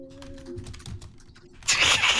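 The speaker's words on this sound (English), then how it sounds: "Are you like typing a goddamn paragraph in his stream chat or something?" Computer keyboard typing during an online Among Us game with friends, a run of light key clicks at moderate level, growing into a louder, denser burst of rapid keystrokes near the end.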